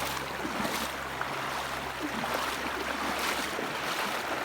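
The Palakol River in Floridablanca rushing past, a loud, steady wash of flowing water close by, with no break.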